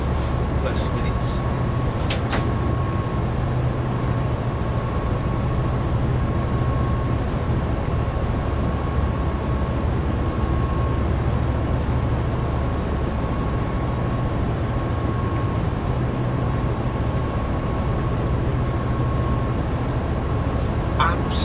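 Diesel train engine in the Train Sim World 2 game, revved hard for a start on the Drag Line, giving a steady, loud low rumble and drone that holds unbroken for the whole stretch.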